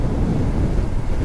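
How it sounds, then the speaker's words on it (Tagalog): Strong wind buffets the microphone at the Kalayaan View Deck, a steady, loud, low roar with no other sounds over it. "Ay, sarap ng hangin."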